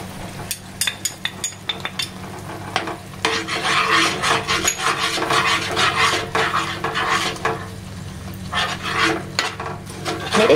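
Spices with kokum leaves, chili powder and turmeric are stirred and sautéed in oil for Malvani bangda fish curry, scraping and tapping of the spoon against the pan over a low sizzle, close up, without talk.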